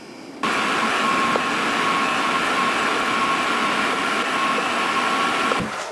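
A meat grinder runs steadily through jerk sausage meat at home, giving a continuous close whirring drone for about five seconds that starts and stops abruptly, with no voices.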